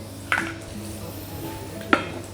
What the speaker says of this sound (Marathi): तेल चांगलं तापलं होतं आणि लगेच कांदा टाकलेला आहे